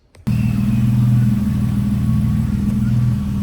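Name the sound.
Nissan 350Z engine running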